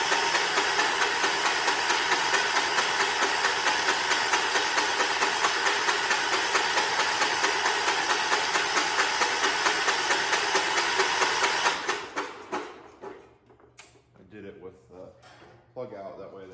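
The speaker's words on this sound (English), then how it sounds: "I'm just gonna crank it over for a little bit, let the pump get fuel up here" Starter cranking on a 1979 John Deere 214 lawn tractor that has sat for a few months: a steady, loud, rapid churning runs unbroken for about twelve seconds, then cuts off, leaving quiet shuffling and faint handling noises.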